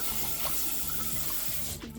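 Kitchen sink tap running steadily while a pan is rinsed under it, water splashing close and continuous, with no talk.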